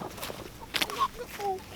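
Soft chicken clucks close by, a few short rising calls over a quiet background with faint human voices nearby.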